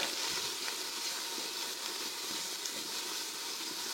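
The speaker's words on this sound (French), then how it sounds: "Une fois votre beurre bien fondu, vous venez mettre l'oignon. Et vous laissez bien revenir." Onion sizzling in melted butter inside a Ninja Foodi Max multicooker, a steady, dense frying hiss that holds at an even level from start to finish with no break.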